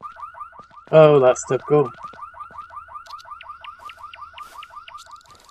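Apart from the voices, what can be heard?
alarm going off in No One Survived video game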